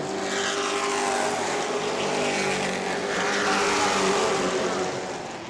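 Pro Truck race trucks roaring around New Smyrna Speedway, a loud sustained engine drone with several trucks passing close together, no talk over it.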